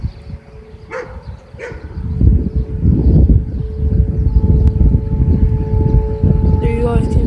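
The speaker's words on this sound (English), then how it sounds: "There you guys can see the tornado sirens. There we go. They're going off all over the place." Tornado sirens sound during a scheduled test in December, a steady rising wail with faint distant tones over outdoor background noise, with brief talk from a nearby speaker.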